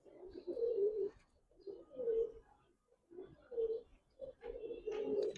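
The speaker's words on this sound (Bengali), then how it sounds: "একদম নিউ অ্যাডাল কবুতর" Newly paired adult pigeons coo close by in a series of repeated throaty, rolling phrases separated by short pauses, with no talking.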